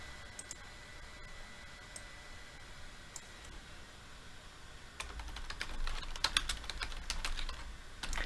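Someone types on a computer keyboard nearby in a quiet room. Sparse, faint key clicks at first give way to a quicker, denser run of typing toward the end.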